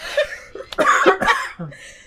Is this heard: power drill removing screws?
no